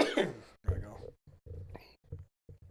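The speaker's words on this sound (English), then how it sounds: "I got a cough." A person coughing close by, a few rough bursts in a row broken by short pauses, with no other talk.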